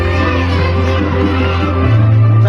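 A school crowd at an Indonesian independence-day ceremony and arts show cheers and shouts continuously for SD Negeri 05 in Desa Jatisawit. Loud, dense children's voices fill the space, and a steady musical drone runs beneath them.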